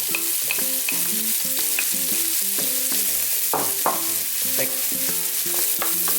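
Potatoes and onion stir-fried in a pan ahead of a spinach cream pasta, giving a loud, close, continuous sizzle with rhythmic scraping stirs repeating every half second or so.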